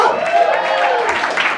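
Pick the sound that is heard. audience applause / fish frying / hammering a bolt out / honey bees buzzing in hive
audience applause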